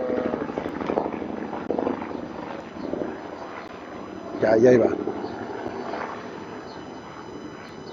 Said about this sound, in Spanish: Esperemos un momento en lo que pasa el helicóptero.